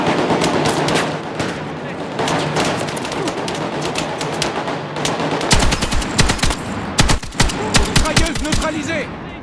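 Machine gun fire in the video game Battlefield 6, with sustained rapid bursts that turn into loud, sharp, separate cracking shots toward the end, over battle noise and a muffled voice.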